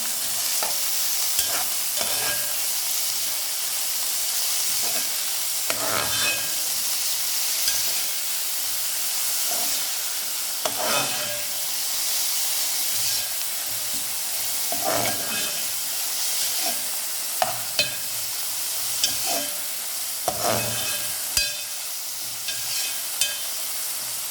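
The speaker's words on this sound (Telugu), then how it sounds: "ఈ ఆయిల్లోకి మనం రొయ్యలు అయితే వేసుకుందాము. వీటిని కలుపుకుందాం." Dry prawns fry in oil in a pan and are stirred for a curry, a steady close sizzle broken every few seconds by spoon scrapes and small crackles, with no voices.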